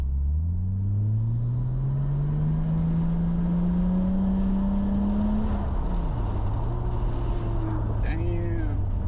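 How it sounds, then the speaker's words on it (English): A Nissan Skyline R34 sedan with a slipping automatic transmission drones from inside the cabin, its engine pitch climbing steadily without a clean shift, then dropping and rising again, loud and continuous. "The auto is really like slipping a fair bit."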